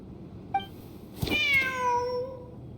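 A cat in a video game gives a brief chirp, then a long, clear, drawn-out meow that fades slowly, heard alone and close against a quiet background.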